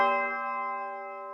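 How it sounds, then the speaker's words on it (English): A single bright synthesized bell note, layered an octave up in a UK drill beat, strikes and rings out with a clean, layered tone, slowly decaying over about a second. "For the final instrument, we've added this bell,"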